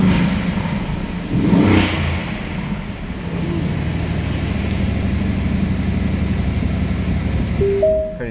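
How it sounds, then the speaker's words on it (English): A sports car engine cold-starts and revs up loudly, then settles into a steady, strong idle rumble that stays close and runs without talk until a brief fade near the end. "Cold start. Pretty nice cold start."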